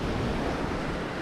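Ocean surf washes against rocks along a rocky shore, making a dense, continuous roar of breaking water with some wind noise, loud and steady over a brief moment.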